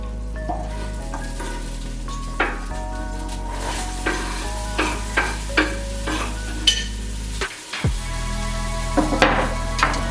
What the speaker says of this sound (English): put a slab of butter in there, a bit of oil, and just got to brown up these onions